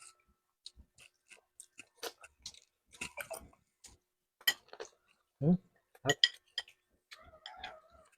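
Someone chews food at a dinner during an outreach program. The close, crisp smacks and clicks come in an irregular rhythm, with faint vocal sounds in between.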